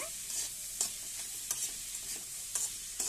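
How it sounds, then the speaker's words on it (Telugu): Eggs fry in a pan with salt and turmeric, a soft sizzle running under repeated sharp scraping strokes of a spatula at a roughly steady rhythm, close and clear with no talking. "సాల్ట్ పసుపు వేసుకొని మంచిగా ఇలా ఫ్రై చేసేసుకుంటే ఇలా ఫ్రై చేసేసుకోవాలండి"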